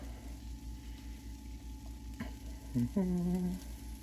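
Garlic powder sizzles faintly and steadily on a hot griddle, with a brief tonal chirp near the end.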